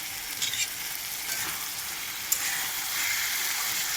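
Water lily stems (shapla) fry in a pan, sending up a steady, close sizzle with a few sharp spits and pops, and no voices.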